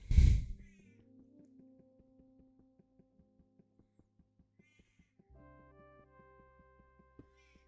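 A single short meow from a cat in Minecraft at the very start, followed by quiet game music with soft plucked notes and faint ticking.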